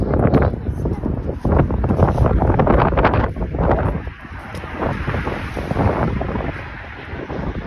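Strong wind buffets the microphone in loud, rough gusts, easing somewhat toward the end, with voices faintly underneath.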